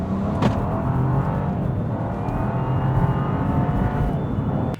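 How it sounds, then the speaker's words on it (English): A 2025 Buick Envista's three-cylinder engine growls as it revs, a loud steady drone that holds for several seconds and then cuts off abruptly. "We get a surprising amount of growl out of this engine."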